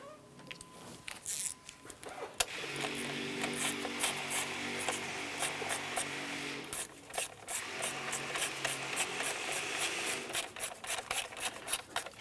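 Nuts tightened on an engine bracket of a 2001-2005 Honda Civic during a camshaft seal job, with close, rapid ratchet clicking and scraping metal rubbing in repeated bursts.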